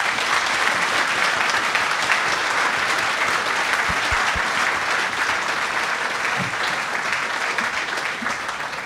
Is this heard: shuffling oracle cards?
no